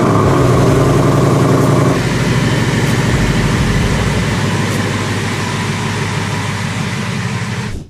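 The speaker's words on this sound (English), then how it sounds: "let's go ahead, turn on the Mustang, back it out" A Ford Mustang GT V8 fires up loud and close, then settles into a deep, steady, rumbling idle that carries on alone for several seconds.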